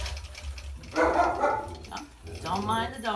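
Several dogs barking excitedly indoors at someone arriving at the door, a cluster of close, loud barks and yips in quick bursts.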